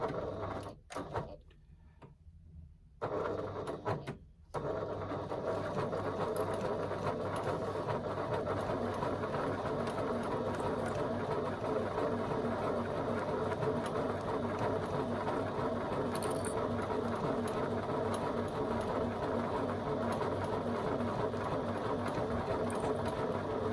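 Classico MK2 sewing machine stitching in a steady, continuous rhythmic whir after a few brief starts, close and fairly quiet, with no talking.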